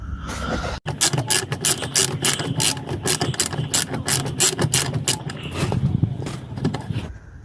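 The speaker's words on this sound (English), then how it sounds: "So now what we're going to do is we need to remove this bolt here. That's the 8mm bolt." A ratchet clicks rapidly and steadily, up close, while loosening an 8mm bolt on a Nissan Qashqai front fog light, with a brief pause near the start before the cranking resumes.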